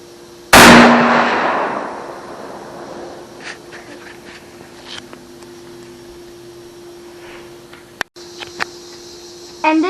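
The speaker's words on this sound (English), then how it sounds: "On this one, I'm going to shoot on this side." A single loud gunshot into a watermelon outdoors, a sharp close crack with a quick burst that fades over a second or two, followed by quiet background noise and a few faint clicks.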